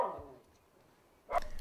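Small dogs back from neutering surgery give a brief bark or yelp, with a softer whimper-like sound at the start, heard close and fairly quiet.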